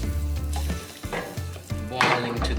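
Beef stroganoff sauce with Worcestershire sauce bubbles and sizzles loudly in a pan, a continuous crackling hiss with low, gurgling pops and occasional brief scrapes of a utensil.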